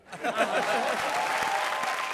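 Studio audience applause on the Comedy Circus TV comedy show: dense, steady clapping that swells quickly and holds for about two seconds, with a faint voice over it.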